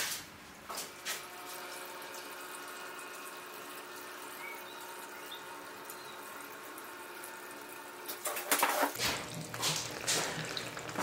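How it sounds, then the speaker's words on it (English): Water flows through a model riverbed on a stream table, a steady trickling and splashing that holds evenly throughout and swells louder near the end. "So let me turn on our water source,"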